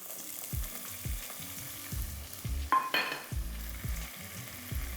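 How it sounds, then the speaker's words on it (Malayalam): Close, busy sizzling of shallots frying in hot oil until crisp, with repeated low thuds and scrapes of stirring and a brief metallic clink. "ഏകദേശം ക്രിസ്പിയായി വരുന്ന രീതിയിൽ നമുക്കിതിനെ വറുത്തെടുക്കണം"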